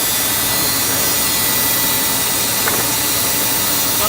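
A bandsaw fitted with a point fence resaws wooden boards in a workshop, giving a steady loud whining roar of blade and motor that is sustained with no pauses, close up and with no voices.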